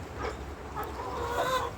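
Tiger breed chickens cluck softly at a distance on a farm, a few short calls rising over a quiet background.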